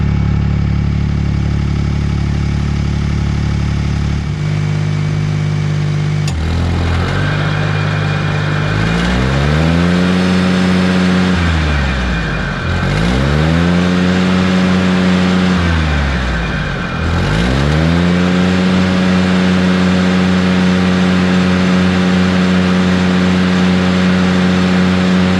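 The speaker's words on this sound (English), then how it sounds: "I'm going to go ahead, start it up, run it, and make sure that everything sounds and feels like it should" An all-terrain bush hog mower's engine starts up and runs for about twenty-five seconds, loud and close, idling steadily then revving up and easing back down three times in repeated swells.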